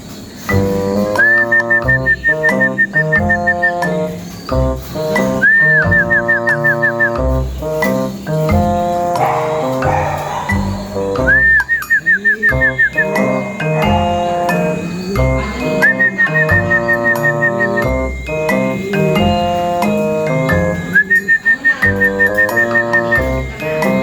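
A person whistles to call a pigeon, repeated melodic phrases, loud and close, each phrase ending in a rising trill, with short pauses between them.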